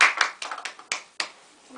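A few people clap their hands in a small, uneven burst of about eight separate claps that start close and fade, indoors.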